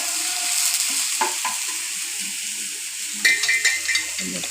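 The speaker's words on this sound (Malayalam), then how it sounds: "അത് അരിഞ്ഞ തണ്ട് ഇട്ടിട്ട് വഴറ്റി ഒന്ന് കുറച്ച് നേരം ഇളക്കിയിട്ട്" Chopped stems are stirred and sautéed in a hot pan for a Kerala-style thoran, giving close, repeated scraping strokes over a continuous sizzle and frying crackle.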